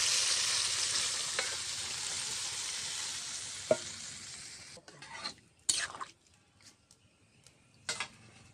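Goat meat cooking in a pot hisses loudly as hot water goes in, a dense sizzle that cuts off abruptly after a few seconds, followed by scattered clinks and scrapes.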